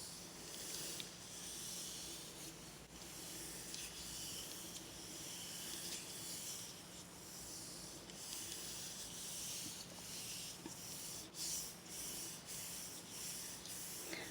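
Paper is rubbed by hand over a gel printing plate, a continuous close, soft scratchy rubbing and swishing that continues for the whole stretch, with no one speaking.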